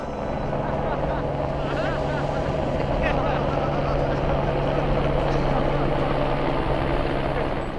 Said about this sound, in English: After a quick powwow, the guys get back into the heli